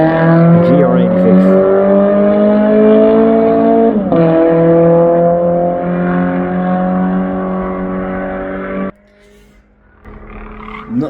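Race cars run at Fuji Speedway in Japan, their engines loud and droning as revs climb steadily. A sharp gear change cuts in before the sound drops away to near quiet, and a voice talks near the start.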